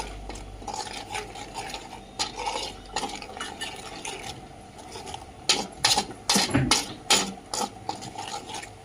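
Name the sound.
stirring mutton pieces with salt in a pot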